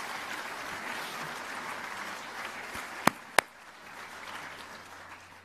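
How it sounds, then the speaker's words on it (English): A banquet audience at the Sports Broadcasting Hall of Fame ceremony claps in a steady, moderately loud round of applause, punctuated by two sharp knocks near the middle. "Give them all a round of applause."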